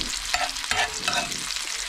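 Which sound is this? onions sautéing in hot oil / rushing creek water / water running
onions sautéing in hot oil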